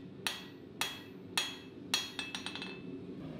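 A hammer rings sharply on hot Damascus steel while forging the spine bevels of a katana blade: four evenly spaced metallic strikes, then a quick flurry of lighter taps, close and clear with no talking.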